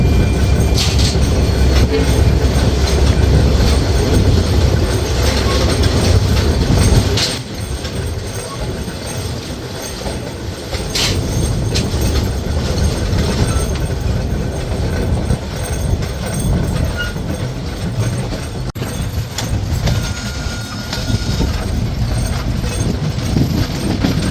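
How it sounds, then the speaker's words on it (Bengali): The Simanta Express intercity train pulls out from platform four at a station at night, a loud, steady rumble of rolling wheels and rattling carriages up close, with occasional squeals and clanks. "আন্তনগর সীমান্ত এক্সপ্রেস চার নম্বর প্ল্যাটফর্ম থেকে ছেড়ে যাচ্ছে তার পরবর্তী যাত্রাবিরতি স্টেশনের উদ্দেশ্যে"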